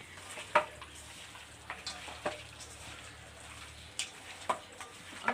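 Chicken pieces being mixed and squeezed by hand with mustard oil in a village kitchen, giving soft wet squelches and scattered slippery clicks at an irregular pace, close and fairly quiet.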